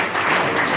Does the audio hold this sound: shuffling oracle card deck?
no